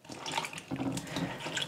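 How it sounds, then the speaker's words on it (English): Apple slices dropped into a bowl of cold water mixed with lemon juice, giving a near, steady run of soft splashing and sloshing water that lasts about two seconds with a slight dip partway through. "I'm tossing the apple slices into some cold water"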